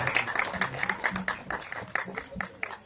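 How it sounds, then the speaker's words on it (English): Applause for the star cast of Ek Villain Returns at a crowded press event: dense, steady clapping from many hands, with sharp individual claps popping out of the mass and no talk over it. "Can we have a huge round of applause for the entire star casting?"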